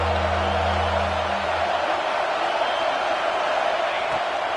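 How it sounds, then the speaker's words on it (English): A dense, steady crowd roar fills a stadium in the NCAA 26 college football video game during an LSU matchup, loud and continuous throughout, with a low droning hum at the start. "This crowd knows when to bring it."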